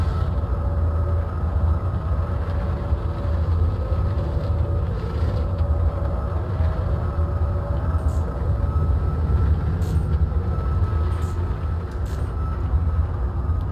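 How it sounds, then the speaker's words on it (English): A steady, low spaceship engine rumble drones on without a break, with faint higher hums and a few soft ticks on top, from the Nomad ship near the surface of Daymar in Star Citizen. "it's trying to be quiet so you guys can hear the engines rumble"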